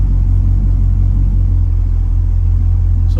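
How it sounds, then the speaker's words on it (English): A deep, steady engine rumble from a 1968 Chevrolet Camaro SS exhaust, loud and close, holding an even low drone throughout with no voices. "The exhaust sounds really good too."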